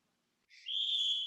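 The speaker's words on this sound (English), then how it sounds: "That doesn't even deserve a whistle." A single sharp whistle sound effect rising in after a brief silence, then holding a clear, bright, sustained tone, isolated and moderately loud.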